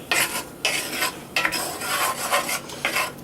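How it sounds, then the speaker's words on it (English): A spoon stirring spaghetti sauce in a pot, close rhythmic scraping and swishing strokes in quick bursts, loud and unaccompanied. "Get this stirred in a little bit."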